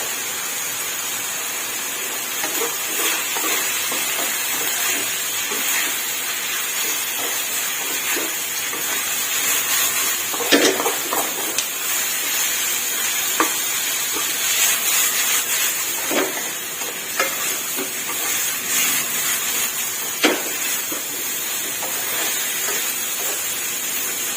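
Steady loud sizzling and hiss of pork and sweet banana peppers stir-frying in a hot wok, with occasional clatters of a utensil against the metal.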